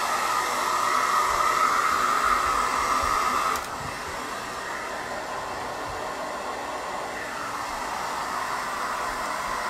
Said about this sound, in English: I'm gonna hit it with a blow dryer because, you know, it has like little bubbles.